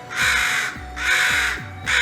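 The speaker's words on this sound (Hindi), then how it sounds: "कौवा लगातार गाना गाए ही जा रहा था।" A crow caws loudly and close by, giving three harsh, drawn-out calls in steady succession, the last cut short.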